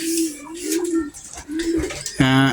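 Newly acquired pigeons in a loft near nesting give repeated low, throaty coos close by, and a voice speaks briefly near the end.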